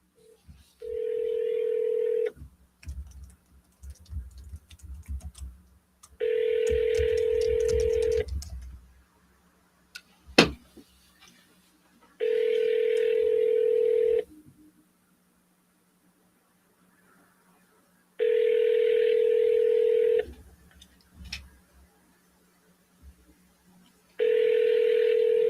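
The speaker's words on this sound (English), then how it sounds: "let's double dial that one." A telephone dial tone and dialing tones repeat in bursts of steady tone, each separated by quiet gaps, close and clear, with brief low clicks in between and no talk.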